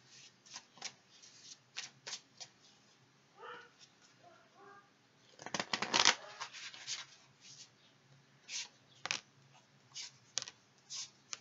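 A deck of tarot cards is shuffled by hand, soft riffling and scattered flicking taps with a denser, louder burst of shuffling midway, close and fairly quiet in a calm room.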